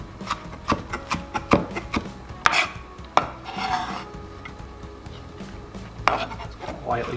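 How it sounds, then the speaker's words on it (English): A knife on a cutting board minces lemon zest, garlic and parsley, giving sharp, irregular chopping taps, some in quick bursts and some spaced apart, with dish and utensil clatter in between, all close by. "I'm just going to mince all this stuff up together. I have the lemon zest, garlic, and parsley."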